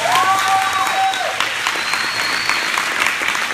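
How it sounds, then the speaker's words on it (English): An audience at a product-release presentation claps in a continuous burst, with a few brief whistle-like tones on top early on. "Can we clap for them one more time?"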